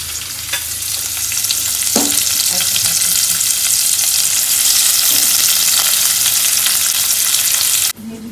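Crabs fry in a garlic and onion tempering, a loud, close, continuous sizzle with stirring scrapes throughout, cutting off sharply near the end.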